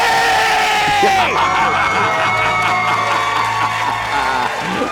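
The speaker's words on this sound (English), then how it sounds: "Let's hear a debt-free scream." A loud crowd screams and cheers together, a sustained roar of yelling and whooping that fills the whole moment without letting up.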